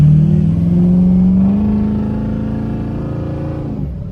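A truck engine revs at about three-quarter throttle, a loud, steady droning hum that climbs in pitch, holds, then slowly eases off over a few seconds, with a brief spoken word near the start.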